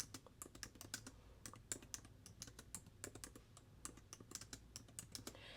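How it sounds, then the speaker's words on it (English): Fast typing on a new Apple keyboard, close and quiet, with crisp clicking keystrokes in quick irregular bursts and short pauses, and no voices. "Can I just say, typing? This is my first video using my new keyboard."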